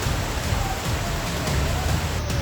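Heavy monsoon rain pours steadily during a flood in Junagadh, India. The hiss is loud and continuous, with no talking.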